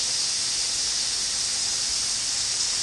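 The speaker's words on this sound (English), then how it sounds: "I'm waiting for it to stop raining." Rain falls in a video game as a steady, bright hiss of even noise that holds unchanged throughout, with nothing else breaking through.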